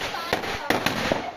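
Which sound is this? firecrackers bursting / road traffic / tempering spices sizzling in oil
firecrackers bursting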